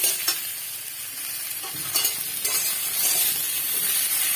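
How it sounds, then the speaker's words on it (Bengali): Vegetables frying lightly in ghee for a bitter gourd or kankro dish, a steady close sizzle with stirring scrapes and occasional utensil clinks throughout, no talk. "এখানে একটু হালকা ভেজে নেবো"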